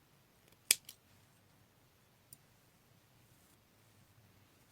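Scissors snip through yarn while someone crochets a two-tone chicken-shaped dish scrubber. One crisp, close cut is followed by a faint second snip and a soft later click, all in a quiet room.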